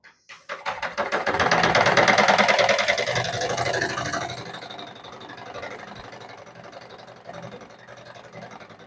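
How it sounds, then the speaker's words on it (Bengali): A sewing machine being repaired for a fault where the fabric would not feed forward stitches cloth: a loud, rapid mechanical whirring with a steady rattling rhythm that starts abruptly, then gradually eases, with a brief restart near the end. "এবার আমি দেখুন সেলাই দিই"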